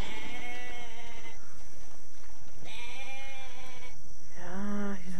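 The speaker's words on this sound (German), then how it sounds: "Das ist eine Ziege." Bleating goat in the park-building video game Jurassic Park: Operation Genesis, three drawn-out wavering bleats with pauses between them over a steady game background hum.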